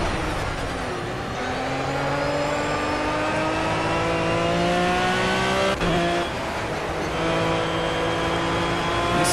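Aston Martin GT3 race car at Spa-Francorchamps in a racing video game, engine loud and close, revving up through rising gear pitches with a brief shift cut midway, no voices.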